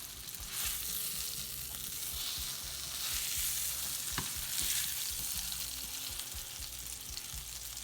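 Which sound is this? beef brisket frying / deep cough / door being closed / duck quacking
beef brisket frying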